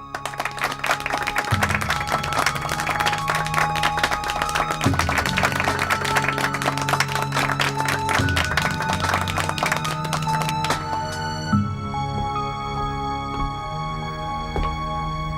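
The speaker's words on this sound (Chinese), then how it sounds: "鼓掌！" A boardroom group applauds after a unanimous shareholder vote, with dense clapping running steadily for several seconds over loud background music before thinning out.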